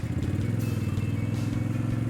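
A 1980 Moto Morini GTS motorcycle engine runs steadily at close range, a loud, even throb with a rapid pulsing rhythm that holds throughout without a break.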